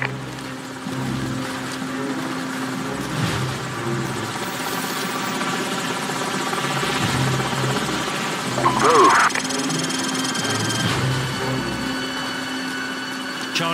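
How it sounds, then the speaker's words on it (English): Steady rotor and engine drone of helicopters in Call of Duty 4: Modern Warfare running throughout, with voices talking over it and a brief burst of louder activity near the end. "Enemy helicopters."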